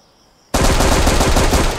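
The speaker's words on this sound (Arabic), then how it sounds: "كان في رشاش يسوي شغل" After half a second of quiet, a loud, sustained burst of automatic machine gun fire starts in the mobile shooting game HunterCraft, a rapid, dense rattle that keeps going to the end.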